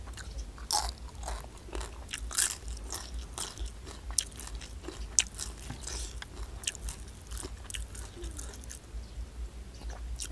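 Crispy roast pork skin being bitten and chewed close up, a long run of sharp crunches and crackling bites with quieter chewing between them, no talking.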